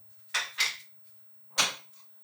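Clean bowls taken out and handled in a kitchen, three sharp clinks of dishware knocking together, close and fairly quiet with short pauses between them.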